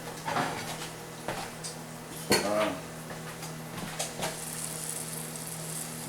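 A utensil scrapes and clinks against a Magnolite aluminum pan in a few short, close bursts, with one sharper knock partway through. A low hum runs underneath the scraping.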